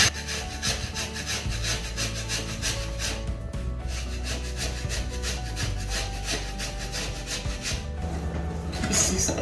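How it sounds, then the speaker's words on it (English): Brown sugar being grated on a metal cheese grater, producing continuous rapid rasping strokes in a fast, even rhythm, close and fairly quiet. "I'm using cheese grater to grate the brown sugar."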